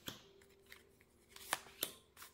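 Tarot cards being handled and drawn from a deck at close range, with soft shuffling and sliding rustles broken by two or three sharp card snaps, over a faint steady hum and no talk.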